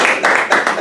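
A short burst of several quick hand claps, close and fairly loud, at a community meeting about limited equity housing co-ops.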